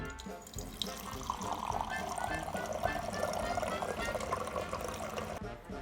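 Water runs from a Philips filter dispenser with hot and cold settings after a button press, a steady close splashing pour into a container lasting several seconds before cutting off at the end.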